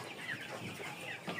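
Chickens on a Bangladeshi broiler farm of about 600 birds cluck and call together in a close, steady flock murmur, with a few sharper calls rising above the chatter.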